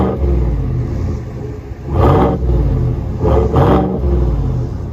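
A 2020 GMC Sierra AT4 with a 6.2L V8 and Borla dual exhaust idles with a deep rumble, then gets short revs that swell twice, held back by a rev limiter, heard close with no talking.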